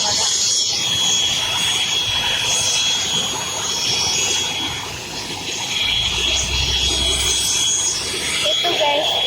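Loud, steady jet engine roar of an airplane at an airport, heard from close by, droning continuously with a low rumble swelling near the end; a Hercules aircraft is also around, and voices chatter underneath.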